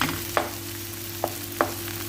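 Daripa balawag cooking in a pan as a simple dinner dish, a steady low sizzle running throughout with a few brief scrapes or stirring clicks spaced apart, fairly quiet and close.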